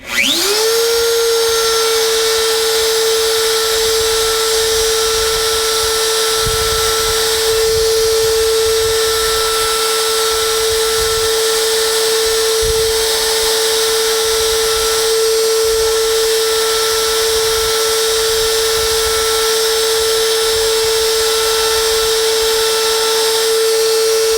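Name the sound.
router with profile bit trimming wood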